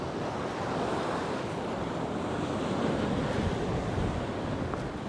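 Sea waves washing on the rocky coast near Delimara Lighthouse in Malta in December, a continuous broadband roar of surf mixed with wind buffeting the microphone, steady and fairly loud with no speech.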